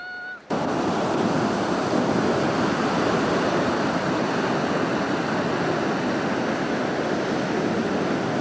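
Surf breaks on Apotiki Beach in New Zealand as a loud, steady roar of churning water after a brief quieter instant at the start, with wind buffeting the microphone.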